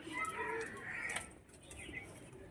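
Pigeons at a pigeon sale coo in low, soft rolling bursts, steady and close, under people chatting nearby.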